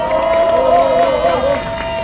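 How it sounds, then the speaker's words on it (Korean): Loud crowd cheering and shouting at an outdoor rally in Changwon, Korea, a dense wash of voices with a sustained tonal vocal line riding over the noise for a couple of seconds. "힘찬 함성과 박수로 맞이해 주시기 바랍니다"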